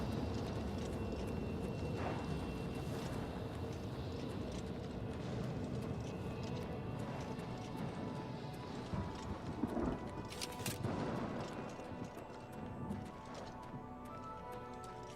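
Horse hooves clip-clop steadily in Oblivion Remastered, a faint, continuous galloping rhythm over a busy game soundscape.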